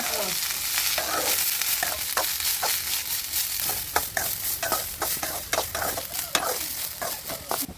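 Chavalikai palya, a North Karnataka cluster bean dish, fries in oil in a pan with a continuous soft sizzle and repeated scraping stirs of a spoon, close by, with no talking.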